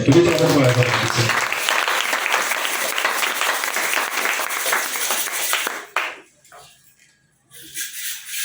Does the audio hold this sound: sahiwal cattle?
no